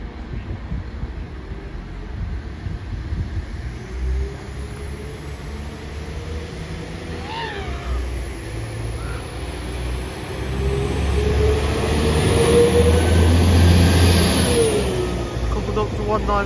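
A Class 195 diesel multiple unit departs Chesterfield towards Nottingham, its engine note rising steadily as it pulls away and swells louder toward the end, with a long high whine overhead and no talk.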